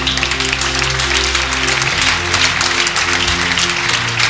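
A church congregation applauding in praise of the Lord, a steady dense wash of clapping that keeps up the whole time over a sustained organ or keyboard chord.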